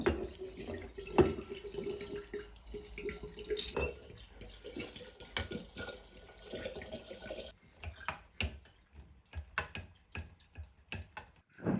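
Alcohol pours and splashes into a glass jar in uneven bursts for homemade Polish cherry liqueur, followed by clinks and scattered taps as it settles and is stirred.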